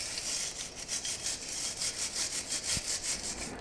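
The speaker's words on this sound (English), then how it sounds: "I'm going to get the wire brush on this, try and get this as cleaned up as I can" A wire brush scrubs corroded wheel hub bolts on a Grand Caravan, a close, rhythmic back-and-forth rasping scratch repeated steadily in quick strokes, with no talking.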